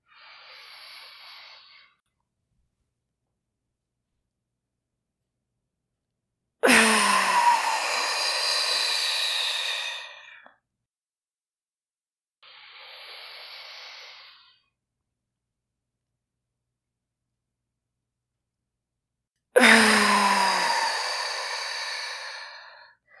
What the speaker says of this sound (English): breathing in through the nose and exhaling out through the mouth